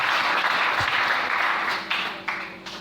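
A church congregation applauds the Lord during a sermon, a dense, sustained burst of clapping that fills the room and gradually tapers off.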